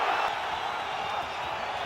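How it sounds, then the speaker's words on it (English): Boxing crowd in the arena during the final minute of Kambosos vs Haney, rallying behind Kambosos with a dense, sustained roar of cheers and shouts, loud and constant throughout. "Crowd trying to rally support for Kambosos here."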